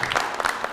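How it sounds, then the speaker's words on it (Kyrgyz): Audience at a televised contest show giving brief, scattered applause for a contestant, with a short burst of clapping at moderate level. "Кана кол чаап коелу, Элиза"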